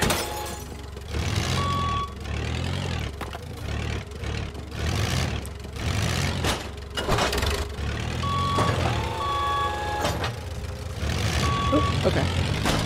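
A forklift in Good Job sounds steady, evenly spaced reversing beeps over a low motor hum, repeating in short runs throughout while people talk.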